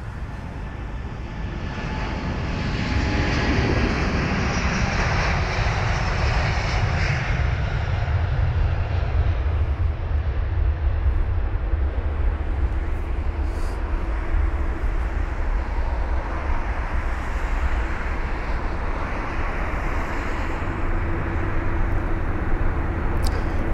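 A Virgin Atlantic Airbus A330neo departs London Heathrow, its jet engines building into a loud, steady roar that holds for over twenty seconds as the airliner rolls and climbs.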